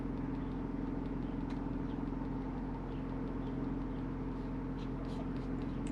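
A 2023 Genesis GV70 with warning lights on its cluster, heard from inside as a steady, loud low engine and road drone held at a constant level throughout, with a voice faintly audible beneath it.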